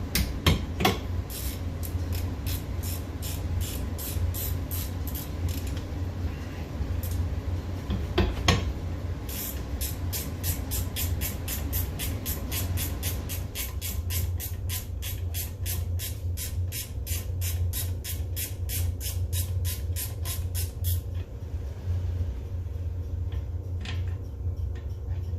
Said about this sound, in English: Let's get our nice ratchet wrench on here, and it's going to be a 14 mil